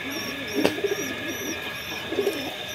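Giribaz pigeons in a village loft give soft, repeated low coos in short bursts, close by, with a sharp click partway through.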